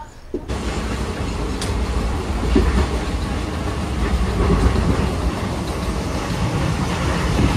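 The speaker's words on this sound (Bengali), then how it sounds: "তো এই ট্রেন ছেড়ে দিল আবার" A train rumbling steadily with a loud low roar and faint clatter of wheels, growing slightly as it gets underway.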